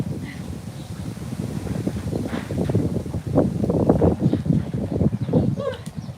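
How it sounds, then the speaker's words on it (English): Heavy wind buffeting the microphone, a constant low rumble with gusts swelling and dropping throughout, with faint rustling beneath. "It's super windy"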